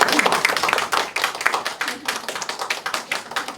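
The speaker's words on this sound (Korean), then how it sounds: "뜨거운 박수로 환영해 주십시오." Dense, loud applause from an audience welcoming a lecturer to a social economy class, many hands clapping at once in a steady crackling wash with some voices mixed in.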